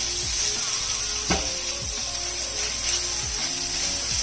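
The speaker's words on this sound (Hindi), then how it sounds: "आलूओं को हम 2 से 3 मिनट के लिए अच्छी तरह पका लेंगे" Grated potatoes with black pepper sizzle and fry steadily in a pan, a constant hiss broken by occasional scraping stirs, close and alone.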